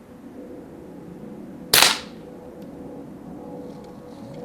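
A Winchester 1977XS scoped rifle fires a single sharp, loud shot outdoors at a target range, a sudden crack with a short decay over faint background ambience.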